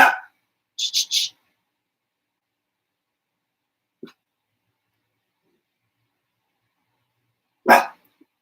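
A dog lets out a few sharp barks, a quick double bark early on, a faint yip in the middle and one louder bark near the end, separated by silence.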